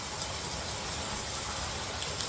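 Rain falls steadily on a balcony as a continuous, even hiss of drops, moderately close, with no voices.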